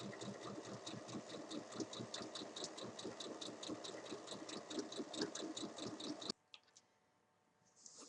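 A sewing machine runs steadily for about six seconds, stitching along the full length of a large fabric bag's handle, its rapid mechanical rhythm loud and close before stopping abruptly into near silence.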